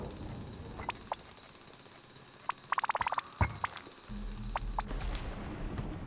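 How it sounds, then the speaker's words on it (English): Drilling in the mining video game Manic Miners, a sustained rumble and whine under scattered clicks and taps, rising into a louder low grinding drone near the end, with no talk. "keep up the drilling process"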